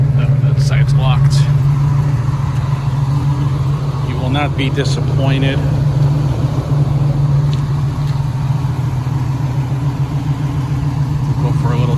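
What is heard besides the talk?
1968 Chevrolet Camaro big block 454 engine running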